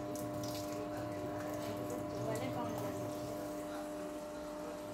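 Small electric motor pump held underwater, drawing up water with a steady hum and continuous splashing and gurgling, close by, with a person talking over it.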